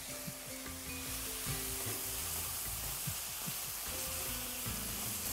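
Minced meat filling with tomato ketchup sizzles steadily in a frying pan as pirozhki stuffing, with repeated scraping knocks from stirring throughout.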